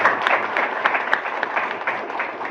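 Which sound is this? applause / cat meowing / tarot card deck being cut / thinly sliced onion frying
applause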